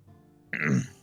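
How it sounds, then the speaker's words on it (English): A person clears their throat once, a short, loud, rough burst close to the listener that follows a quieter stretch of faint background sound. "just clear my throat loud enough for him to hear."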